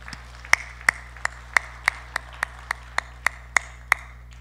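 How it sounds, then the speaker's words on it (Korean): A church congregation at a Wednesday service in Gwangju claps in praise; about a dozen sharp, evenly spaced claps ring out over a steady low hum, sparse enough to sound like a few hands rather than a full room. "박수로 영광을 올려드리기를 원합니다."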